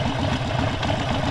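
A Harley-Davidson Sportster 72 XL1200V motorcycle engine idles at about 1,000 rpm while creeping along in first gear, a steady low throbbing rumble heard close with no talking.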